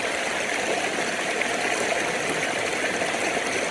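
Steady rushing water flows without a break, a dense, even hiss of a stream in the upper catchment of Kirimutti Ella waterfall in Sri Lanka, close by and no voices.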